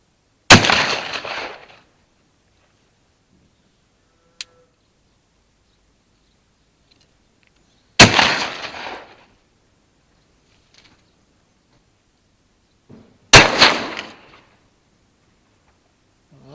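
Air rifle shots fired at a milking parlour, three sharp cracks spaced several seconds apart, each with a short fading tail, separated by near silence and a faint click.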